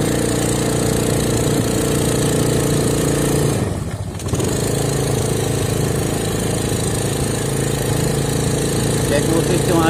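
Small motorcycle engine running steadily, a loud, continuous buzzing drone with a rhythmic throb close to the microphone, briefly dipping midway before resuming at the same level; a person talks over it.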